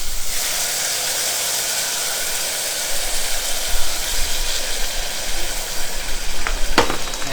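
Stock hits a hot pan of sauteing Hokkien flat noodles and sets off a loud, steady sizzle that holds close and unbroken, with a brief clink near the end.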